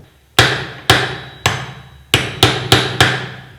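Seven sharp metal hammer blows strike a drift or chisel to stake a nut during a Karizma R engine rebuild, close and loud, spaced unevenly with a quicker cluster near the end and brief ringing decay after each hit.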